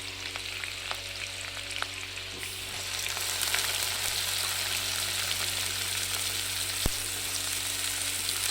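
Chopped fresh green onion tipped into hot oil with cut chillies surges into a louder, dense hiss a couple of seconds in, then holds as a steady close sizzle with faint crackles and one sharp tap.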